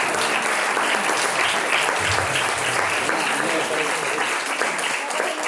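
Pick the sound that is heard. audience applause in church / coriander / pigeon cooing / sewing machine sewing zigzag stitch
audience applause in church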